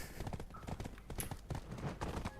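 A horse ridden in the Black Desert video game, with rhythmic clip-clop hoofbeats at a steady gait, fairly quiet and continuous.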